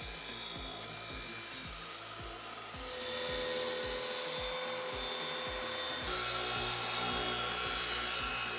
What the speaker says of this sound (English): Have your polisher on a low setting just to spread it all out, and then you're going to kick it up all the way to the max setting.